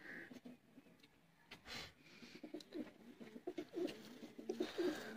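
Sialkoti pigeons coo softly nearby, low throaty calls repeating unevenly among faint rustles and flutters.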